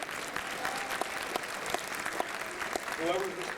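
A convention crowd at the Megaplex 2021 opening ceremony applauds the con chair, a steady wash of clapping with a few sharper claps standing out and voices mixed in.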